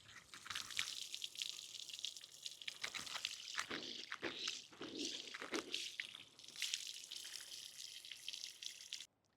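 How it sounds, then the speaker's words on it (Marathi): Water splashes and trickles as fenugreek leaves are rinsed by hand for a dhaba-style garlic methi dish, a close, continuous sloshing with a few louder swishes before it stops abruptly. "आपण आता मेथी स्वच्छ धुवून घेऊ।"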